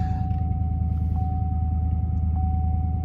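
A pickup truck engine rumbles at a steady idle on a freezing 28-degree morning, close and constant, with a thin whine running above the low throb.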